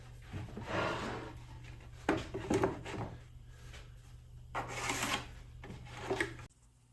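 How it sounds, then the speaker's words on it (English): Wood for a blanket chest being sanded, heard as several separate bursts of rasping friction, close and moderately loud, each lasting about a second with quiet gaps between, ending abruptly. "now I'm going to do the final sanding on here before I put it in the dovetail jig and get the rest of this glue off"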